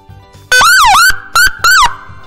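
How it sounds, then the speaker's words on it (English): A police motorcycle's emergency siren whoops and wails in loud close bursts, rising and falling in pitch with short gaps between the cycles. "what else is also used to let everyone know that there's an emergency is the siren"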